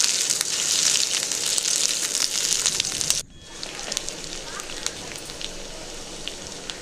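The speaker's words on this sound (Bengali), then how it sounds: "আলুগুলো ভেজে নেব অল্প একটু তেল দিয়ে।" Thin-sliced potatoes fry in a small amount of oil for a Bengali mixed vegetable curry, giving a steady, close hiss and crackle that drops a little quieter partway through after a brief break, with no voices.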